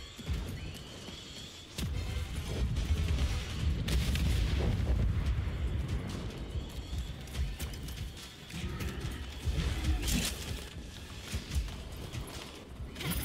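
Explosions in the dinosaur shooter game Second Extinction: loud, heavy booms with rumbling low end, mixed with rapid gunfire-like bursts that continue throughout with no voices.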